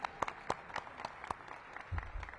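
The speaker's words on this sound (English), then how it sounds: "Let's give another big round of applause to the DC businesses here today" Scattered hand claps from a small crowd at a mayoral press event, uneven and sparse, fading toward the end with a low thump underneath.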